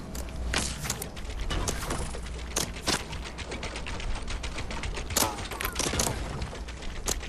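Rapid gunshots in Fortnite Battle Royale, a dense burst of sharp cracks and clicks scattered irregularly over several seconds, fairly close and loud.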